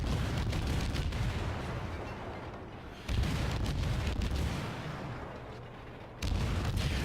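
Guns of a Fletcher destroyer in World of Warships fire shells in heavy, booming salvos, with a loud blast roughly every three seconds, each fading into a low rumble before the next.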